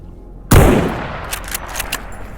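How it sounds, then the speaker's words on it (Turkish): A single loud sniper rifle gunshot in the video game STALKER GAMMA, a sharp close blast that decays over about a second, followed by a few faint distant clicks and noises. "İşte sniper rifle'ın gücü"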